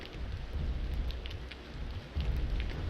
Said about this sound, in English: We'll have Brenna throw down another lightning